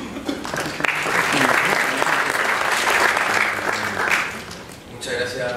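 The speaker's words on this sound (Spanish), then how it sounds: "Así que un aplauso." An audience claps steadily through a university panel forum in Chile, the applause swelling and holding before tapering off, with a few voices murmuring underneath near the end.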